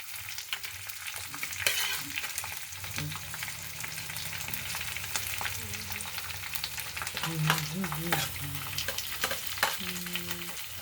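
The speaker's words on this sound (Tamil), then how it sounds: "ஆனியன் போட்டா, ஆனியனுக்குள்ளே ஜீரகம் அப்படியே தள்ளு, இப்படி வச்சு தள்ளு." Onions and cumin frying in oil while being stirred, a continuous crackling sizzle with a spoon scraping and knocking against the pan, close and steady.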